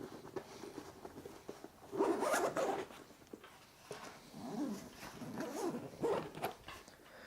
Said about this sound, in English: Let me zip this back up just real quick.